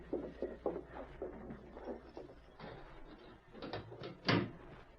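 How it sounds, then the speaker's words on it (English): A jail cell door being opened in an old radio western, heard as a series of close clunks and rattles building to a louder bang near the end. "I'll open the door to the big cell."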